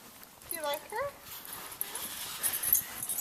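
A dog on a neighborhood walk gives a few high, rising whimpers and yips close by, along with light footsteps and rustling. A faint voice is also heard in the background.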